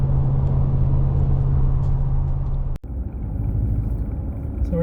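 Ram Rebel pickup with an extra-large fuel tank cruising on a road in Oregon: steady engine and tyre rumble throughout, with a brief dip near the middle before the drone resumes.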